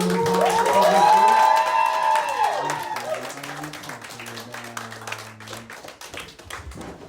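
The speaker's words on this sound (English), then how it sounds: "Can you do a bigger round of applause?" Audience round of applause at a live event at The Monarch, with clapping and cheering rising loudly at first and then fading while a voice and sustained tones carry over the dwindling claps.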